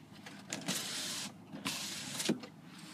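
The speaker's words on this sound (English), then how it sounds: "you have the power rear window." Electric motor of the power rear window in a 2015 Ram 2500 pickup's cab, with two close, steady whirring runs, each under a second long and separated by a short pause.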